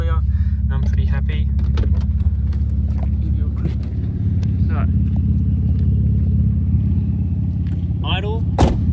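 A Subaru WRX GC8 engine idles as a steady low rumble heard from outside the car, running continuously under someone talking nearby.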